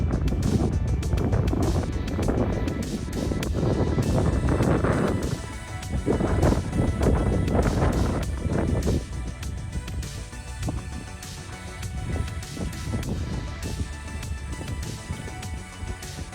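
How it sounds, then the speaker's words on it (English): Strong wind on a Colorado Trail mountain ridge between Copper Mountain and Tennessee Pass buffets the microphone in heavy, rumbling gusts that rise and ease without pause for the whole stretch. "It was so windy once we got up there"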